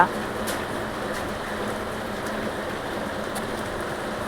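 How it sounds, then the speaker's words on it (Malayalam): Steady, dense hiss of heavy rainfall, constant and fairly close, filling the whole stretch with a few brighter splashes. "ഇവിടെ പുറത്ത് നല്ല മഴ പെയ്യുന്നുണ്ട് കേട്ടോ"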